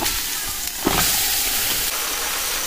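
Desi chicken going into hot oil with onions and a garlic, ginger and green chili paste, giving a loud, steady sizzling hiss with a brief sharper burst near the start.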